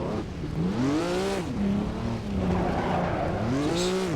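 Historic F1 race car in a racing game, engine pitch swooping down and back up as it brakes hard and then accelerates again, loud and continuous with no talk.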